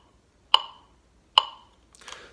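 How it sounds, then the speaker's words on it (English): Metronome clicking at 72 beats per minute, two sharp isolated ticks roughly a beat apart followed by a fainter rustle, quiet and close. "This is a metronome."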